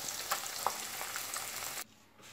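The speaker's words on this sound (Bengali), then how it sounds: "মাছটা একটু কড়া করে ভাজতে হবে, ছোটো ছোটো মাছ তো, গুড়ি মাছ" Small kachki fish sizzle and crackle in hot oil in a pan, a dense frying hiss with a few sharper pops, cutting off abruptly near the end.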